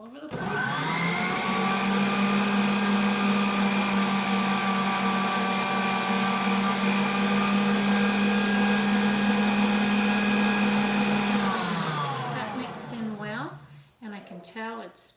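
An electric stand mixer churns whole wheat flour into bread dough for buns, a steady loud motor whine holding for about eleven seconds before it winds down, and brief talking follows.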